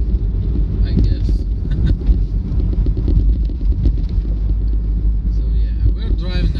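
A car drives around the town of Kėdainiai, its steady low engine and road rumble running throughout with wind buffeting the microphone, while a person talks over it.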